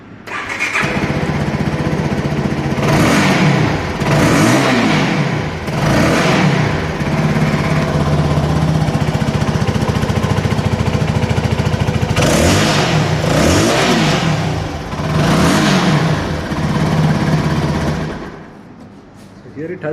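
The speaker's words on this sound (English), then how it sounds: "let's start and hear the exhaust note" A CF Moto 300NK motorcycle with low fuel starts up and runs, its single exhaust note droning steadily near the mic with repeated revs that swell and fall, over a constant low engine rumble.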